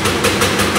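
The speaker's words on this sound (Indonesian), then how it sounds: "Mesinnya jalan" A machine engine runs steadily inside an old Dutch-era factory, a loud continuous rumbling drone with a slow pulsing throb, no voices over it.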